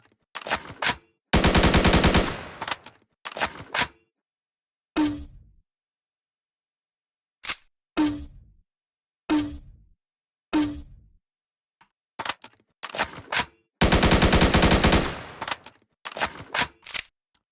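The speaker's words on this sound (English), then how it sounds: "Commando rifle." A commando rifle fires in a video game, alternating full-auto bursts with single sharp shots separated by silent gaps, loud and close with no talk.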